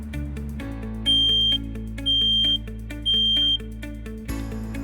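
A smoke detector sounds three long, piercing beeps at an even pace, each about half a second, over a sustained background of electronic tones.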